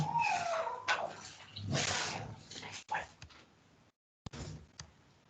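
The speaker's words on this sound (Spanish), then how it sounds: "a mi perrito le da una crisis de ansiedad" A small, anxious little dog whimpers and whines in a few high, drawn-out cries close by, with people talking around it.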